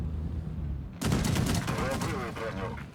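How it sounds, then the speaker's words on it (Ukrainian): Machine gun fire from an FV Defender tank in a tank video game erupts suddenly as a loud, rapid burst of rattling shots with a rumbling low end, continuing for about two seconds. "Типу, для мене це кулемет тупо."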